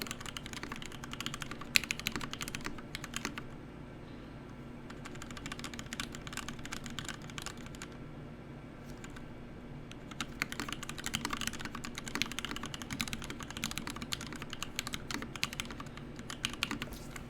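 Steady typing on a Kira80 TKL mechanical keyboard, dense clacky keystrokes in two bursts separated by a brief quieter pause, close and clear with no talking.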